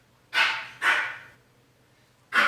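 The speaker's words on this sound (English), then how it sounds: "Oh, my doggy is barking." A pet dog barks three times, close and fairly loud. Two quick barks come in succession, then a pause before a third.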